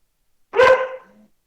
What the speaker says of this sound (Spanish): me alborotó el perrito acá